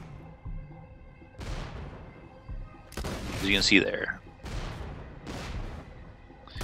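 In Borderlands: The Pre-Sequel, Torgue shotgun pellets burst as flak, giving several separate blasts of explosions. Someone talks between and over the bursts.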